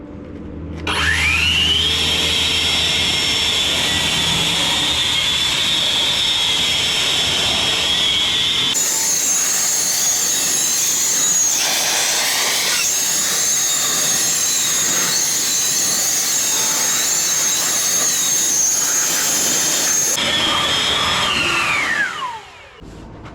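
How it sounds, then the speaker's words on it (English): A loud, high-pitched Tornador air blower drying car tires whines continuously at close range, spinning up at the start, shifting pitch midway, and winding down at the end. "You can also use a Tornador to dry your tires too."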